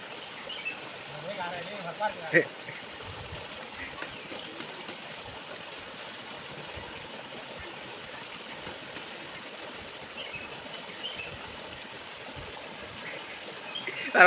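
Steady broadband rush of a flowing river, continuous and moderately loud throughout, with a few faint knocks early on.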